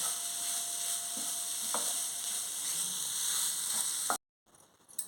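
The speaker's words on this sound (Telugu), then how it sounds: "సిమ్లోనే వేయించుకోవాలి మనం కొంచెం అలాగా దగ్గరుండి కలుపుకోవాలి అడుగంటకుండా" Grated coconut fries on a low flame for coconut burfi, a steady broadband sizzle with occasional scraping stirs of the spoon, close and continuous, then a sudden drop to near silence near the end.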